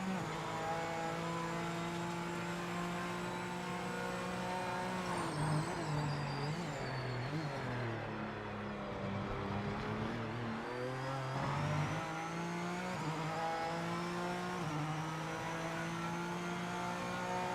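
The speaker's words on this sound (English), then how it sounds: "This is a Honda. It's a Honda NSX GT3, Chris." A Honda NSX GT3 race car engine in the Project Motor Racing video game drones steadily, its pitch rising and falling through gear changes and revs, loud and continuous with no talk.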